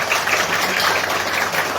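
Applause at a Democratic Party members' meeting in a provincial party office conference room, a steady dense wash of clapping that holds evenly from start to finish.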